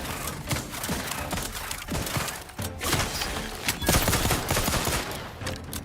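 Rapid automatic gunfire from a fast-shooting weapon in the video game The Outer Worlds 2, a dense loud burst of shots running continuously with heavy thuds and no talk.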